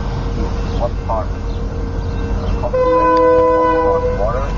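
A BNSF freight train passes the McLeroy Blvd railroad crossing, a steady rumble with an unusual, odd-sounding horn blast midway, while a person talks nearby.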